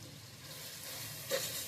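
Ginger sautéing in a pan while vegetable biryani is cooked, giving a soft, steady sizzle and hiss close by. A brief brighter scrape or stir rises near the end, and no one speaks.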